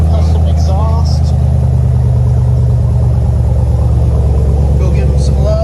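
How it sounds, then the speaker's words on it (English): A Dodge Durango SRT with a full custom MRT exhaust idles steadily with a deep, continuous low rumble, close and loud, while someone talks over it. "He's got a full custom exhaust on this one."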